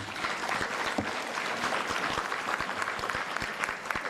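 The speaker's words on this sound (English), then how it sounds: "Another round of applause for our panelists." Loud, sustained applause from a conference audience for a panel, dense clapping filling the whole stretch with no one speaking.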